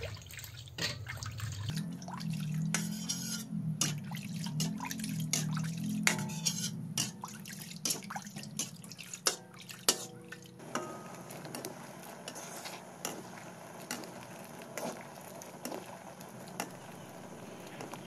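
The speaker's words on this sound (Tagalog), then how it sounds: "Lutuin natin ang gata ng 10 minuto." Coconut milk simmers in a pot for ginataang malunggay, soft bubbling and drips at close range joined by scattered clicks and taps of stirring.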